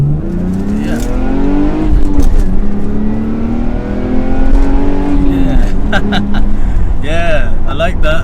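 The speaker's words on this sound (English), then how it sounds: "The car sounds nice, you gotta admit it." A Lexus IS200 saloon's engine revs hard and accelerates up through the gears, its rising and falling tone loud and close, with someone talking over it and a few sharper revs near the end.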